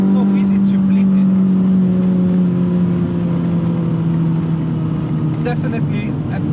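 A Renault Clio Trophy engine, one of 500 built and in mint condition, hums steadily and loudly, with revs blipped on downshifts under someone talking throughout.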